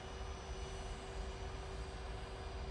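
An Emirates airliner rolls on the Manchester Airport runway, heard as a steady, distant engine roar with a faint sustained whine and no talking.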